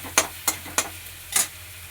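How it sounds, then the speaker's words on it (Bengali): Onions and green chillies frying in mustard oil, stirred in a pan for a tomato mourola fish recipe: four distinct scraping stirs at roughly even intervals over a faint, steady sizzle. "এবার পেঁয়াজ কাঁচা লঙ্কাটা নাড়াচাড়া করে ভালো করে একটু লাল করে ভেজে নিতে হবে।"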